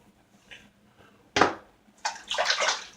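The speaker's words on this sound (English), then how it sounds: "I'm going to drop the water in this sink and get a little bit of it out of here." Water is let out of a sink, heard as a sharp close slosh followed after a short gap by a longer burst of splashing and gurgling, all against quiet room tone.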